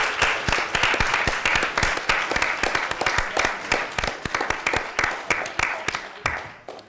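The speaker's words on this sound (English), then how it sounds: "So can we get a round of applause for them?" An audience at a coding tournament final claps for the event's industry sponsors, a dense run of sharp individual claps that is loud and close at first and tapers off near the end.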